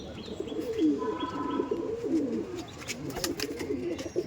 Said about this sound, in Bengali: এই দেখুন বেবি, দেখুন কত সুন্দর ফিট অ্যান্ড ফাইন পায়রা